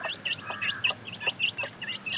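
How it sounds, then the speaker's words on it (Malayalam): A country-breed parent hen clucks in a quick, repeated rhythm, each short call close and clear, with some shorter chirping notes between them. "ഇതാട്ടോ നമ്മളെ പാരൻസ് കോഴി"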